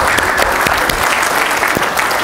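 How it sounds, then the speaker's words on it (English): A real estate seminar audience breaks into a loud, dense round of applause, many hands clapping steadily and evenly throughout with no speech on top. "Give them another big round of applause."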